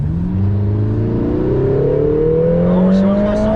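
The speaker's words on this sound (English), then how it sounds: "you can hear the pop as the gear changes" A Lotus Emira sports car engine revs hard and climbs steadily in pitch as it accelerates, loud and close, with a couple of brief sharp pops at the gear changes near the end.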